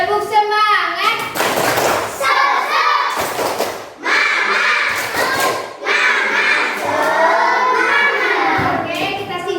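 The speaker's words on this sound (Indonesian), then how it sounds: "Sebelum presentasikan kalian tepuk semangat." A group of schoolchildren in a classroom clap a rhythmic cheer together, mixed with chanting voices and thumping beats, loud and close, with a few short breaks.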